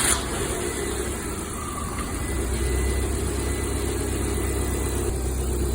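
A Lada Priora car engine warms up at idle during a repair in a workshop. It gives a steady, loud, close-up rumbling hum with an even drone from start to finish and no voices.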